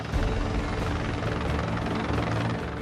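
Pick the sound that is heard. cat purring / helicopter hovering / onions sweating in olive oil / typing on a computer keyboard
helicopter hovering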